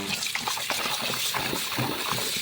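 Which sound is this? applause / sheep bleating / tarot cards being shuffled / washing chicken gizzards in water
washing chicken gizzards in water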